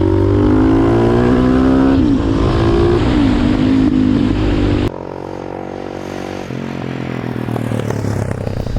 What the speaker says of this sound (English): it has a beautifully sounding Arrow slip-on exhaust